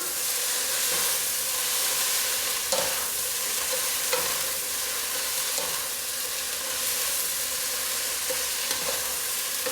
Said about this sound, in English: I'm going to add it in, just a little bit, and just stir-fry it around.